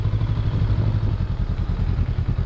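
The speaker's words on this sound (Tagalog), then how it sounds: "Kaya, mandaming motor." Motorcycles ridden by students pass through a town street, a close, continuous mid-pitched engine drone with rattling clatter and no voices.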